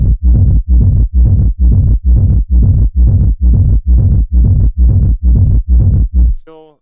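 Techno-inspired bass house synth bass with a sub layer beneath it, playing about a dozen punchy, evenly spaced notes in a steady loop, ending with a short high tonal blip.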